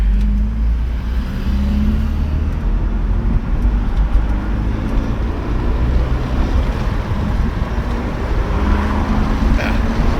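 Topless Chevy Tracker SUV driving in modern traffic on a warm day, with a steady loud rush of engine, road and wind noise and a low engine drone throughout.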